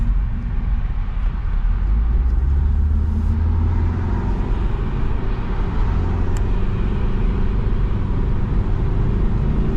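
A 2004 Saab 9-5 Aero's engine and road noise drone loudly and steadily from inside the car under acceleration, a deep continuous rumble with little change.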